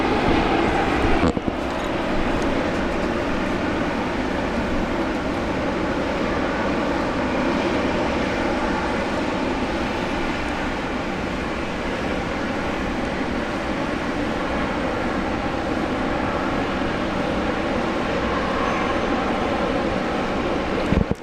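A Qantas airliner at Brisbane airport, producing a loud, broad, steady engine roar that holds for around twenty seconds, with faint talk at the very start.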